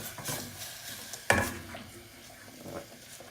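Red onions cook in olive oil in a pan with a soft, steady frying hiss, broken once by a sharp utensil clack against the pan midway.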